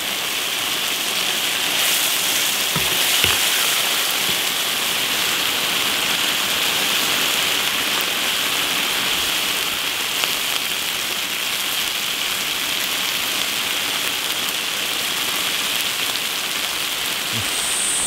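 Quail eggs fry with crayfish in a hot iron wok, giving a continuous bright sizzling hiss like steady rain, with a few sharper pops and crackles scattered through it.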